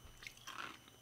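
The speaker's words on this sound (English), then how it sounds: "Munchy, crunchy protein. It's like eating... Popcorn kernels." Crunchy roasted soybean snack is chewed close up, a brief burst of faint crisp crunching bites with no talk.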